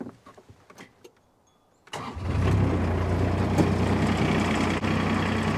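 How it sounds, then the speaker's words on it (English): A Kubota UTV engine starts after a few faint knocks and settles into a steady, loud, close idle with a low rumbling drone that holds for several seconds. "since it is hydraulic, we have to have the engine on."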